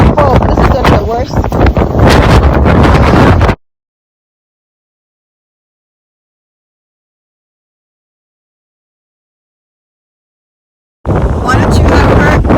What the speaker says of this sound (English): I'm going to turn mine this way so I'm facing right into the wind.